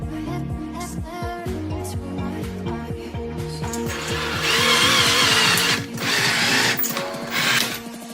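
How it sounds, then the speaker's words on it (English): A drill, powered by a 12-volt supply, boring holes in an epoxy resin ring, a loud continuous whine with rhythmic chattering that swells to a harsher grinding roar midway through. "So let's drill these holes and get going."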